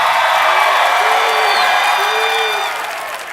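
A crowd at a West Valley event cheers and claps loudly, with whoops and shouts over dense applause that stays strong, then eases slightly toward the end.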